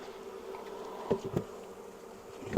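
A low, steady drone of honey bees buzzing close by around a hive, with a few louder passes as individual insects fly near.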